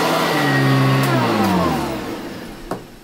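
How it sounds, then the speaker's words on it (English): A household vacuum cleaner runs loudly and close, its motor pitch sliding downward as it is lifted, then settling into a steadier hum with a brief knock near the end. "I lift the vacuum cleaner"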